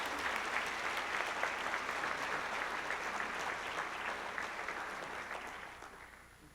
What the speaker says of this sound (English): Could you please give us a round of applause?